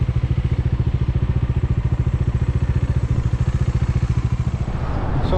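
A motorcycle engine idles close and loud, a steady fast thumping rhythm of exhaust pulses continuing evenly before easing slightly at the end.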